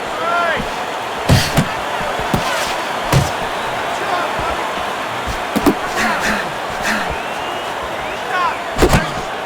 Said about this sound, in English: Work the body, kid. Body shot.